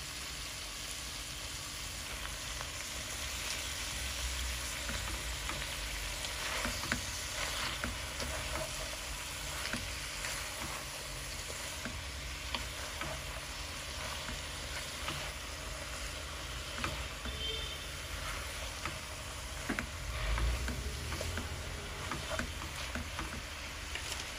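Malabar spinach greens and potatoes fry in a pan with a steady, dense sizzle that runs throughout, broken by occasional soft stirring scrapes.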